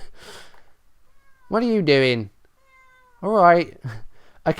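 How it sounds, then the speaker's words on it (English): A pet cat meows twice, loud and close, in long drawn-out indoor calls, with a brief chirp afterward. Someone speaks quietly in the gaps. "If you can hear my cat meowing"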